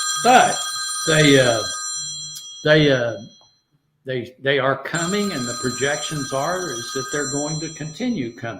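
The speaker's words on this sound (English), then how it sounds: "Hold on, that's my phone." A mobile phone rings with a bright repeating electronic tone heard mostly in the background, while someone talks loudly over it for most of the clip.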